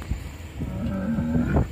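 Cattle at a feed yard holding steers, with one drawn-out, fairly close moo that rises and wavers over about a second above a low background rumble.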